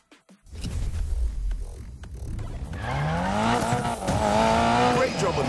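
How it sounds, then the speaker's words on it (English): Video game car tires squealing through a drift, a sustained rising and falling screech over a steady engine drone, loud and close, following a brief quiet opening. "Lighting up those tires is a piece of cake"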